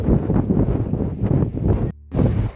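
Strong gusts over a river buffet the microphone in loud, rumbling waves, with a brief lull before the wind roars back.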